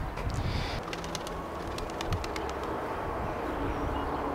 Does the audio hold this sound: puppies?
no